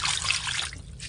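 Water is poured into a wok while fresh tilapia is being cooked, a brief close splashing trickle that fades after a moment before a short second splash.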